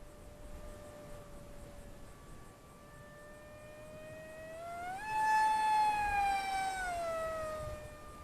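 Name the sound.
Eachine Mobula Wing FW650 RC plane full throttle on 3S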